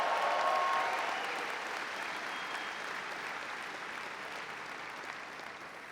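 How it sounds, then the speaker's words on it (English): Applause from a large commencement crowd, a dense wash of clapping that starts strongest and then settles to a steady, softer level, with a faint whistle or cheer early on. "Let's get a round of applause."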